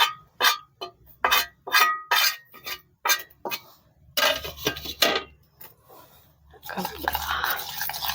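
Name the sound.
mixing spices into omelette eggs in a bowl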